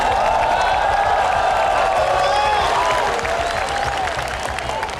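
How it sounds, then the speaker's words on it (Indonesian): A political rally audience applauds loudly with dense, sustained clapping and crowd noise. Scattered cheers and shouts rise through it, and the sound stays steady for several seconds. "Tepuk tangannya dahsyat, penuh rasa cinta."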